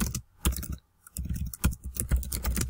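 Keys clatter on a computer keyboard as a tutor types a maths question into an online interactive whiteboard. The irregular, close clicks come in quick bursts with a brief pause near the middle.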